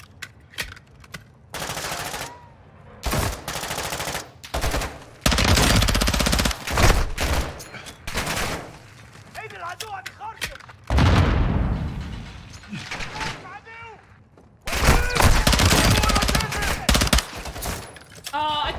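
Heavy automatic gunfire in Modern Warfare 2, aimed at bringing down an aircraft: loud bursts of machine-gun fire with pauses between, close and intense, with some talk in between.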